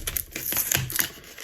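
Plastic packaging around a set of mechanical pencils being torn and opened at close range, with a quick run of crisp crinkling, snapping and tapping noises.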